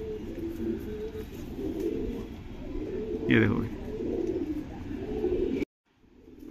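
Madrasi pigeons in a breeding pair coo in soft rhythmic rounds close by while someone talks over them, a brief clatter midway and a sudden drop to quiet near the end.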